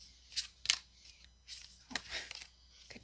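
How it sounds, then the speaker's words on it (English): Tarot cards are shuffled up close, a quiet run of short papery flicks, riffles and taps with gaps between them. "Okay, give you another shuffle."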